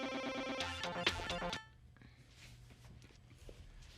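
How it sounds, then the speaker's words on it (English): A short chiming electronic work email notification rings out for about a second and a half, then cuts off, leaving faint room noise and soft movement. "That's the sound it makes when I get a work email."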